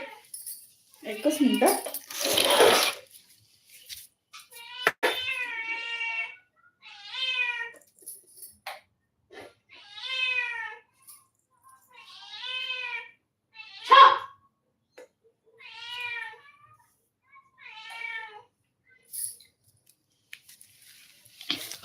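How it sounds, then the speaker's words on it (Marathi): A cat meows repeatedly, several drawn-out cries spaced a second or two apart, close by, with a brief noisy clatter near the start. "मांजर"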